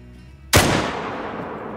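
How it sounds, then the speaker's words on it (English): A single loud, sharp FL Sporter .303 rifle shot cracks out at close range, taken at a 200-meter target, followed by a long rolling echo that slowly fades. "when you're taking a shot from 200 meters"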